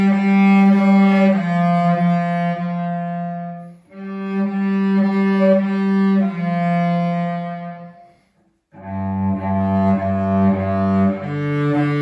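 Bowed string instrument playing a Grade 1 piece, sustained notes swelling louder then easing softer in phrases, clear and close with brief gaps between bars and no talking.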